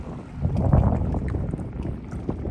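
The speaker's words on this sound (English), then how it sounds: "Got some more boats coming in." Boats run on the St. Johns River near Palatka, a low, steady engine rumble out on the water under gusty wind buffeting the microphone, with no talk.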